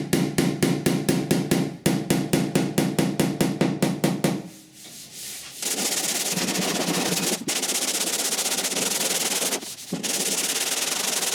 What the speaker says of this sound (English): I normally use a pick hammer